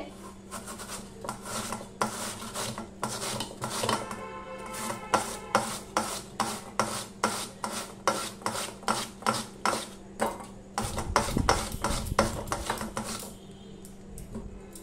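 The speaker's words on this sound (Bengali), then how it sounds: "সব আলুগুলো আমি এইভাবে গ্রেটারের সাহায্যে গ্রেট করে নেব।" Potatoes rasp against a small metal grater in quick, regular back-and-forth strokes, close and crisp, a steady rhythmic scraping with a low steady hum beneath and a brief clatter near the end.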